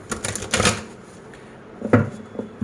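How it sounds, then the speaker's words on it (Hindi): Tarot cards are shuffled by hand in two brief bursts of papery riffling and clatter, close and moderately loud, with a quiet gap between them. "चलिए, शफल हो गए हैं कार्ड अच्छे से"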